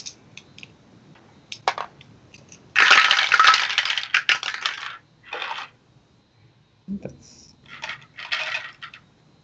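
Dice clatter down a tabletop dice tower during a Dungeons & Dragons-style game session, with several sharp, rattling bursts of plastic on plastic, one long loud tumble, then shorter bounces and a few trailing clicks, close and without talk.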